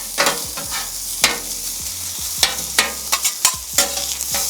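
Fried rice sizzles loudly on a very hot stainless steel Napoleon griddle while a spatula scrapes and stirs it in repeated quick strokes, close up, with steady frying hiss underneath and no talking.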